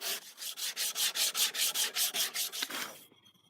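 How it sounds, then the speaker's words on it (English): Rhythmic back-and-forth sanding on a wooden knife with 120 grit garnet paper, about a dozen even, gritty strokes close by, then it stops. "I went over it again with 120 grit garnet paper."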